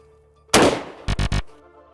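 A single sharp pump-action shotgun blast, fired by a shooter standing upright, cracks out close and loud, followed moments later by three quick, distinct bangs or clacks and a fading tail.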